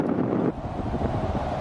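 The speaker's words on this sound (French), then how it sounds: "le vent se lève et la route devient plus hostile." Strong desert wind buffets close by in a short, steady roar, with gusty low rumbling and a slight drop after the first half second, no voices.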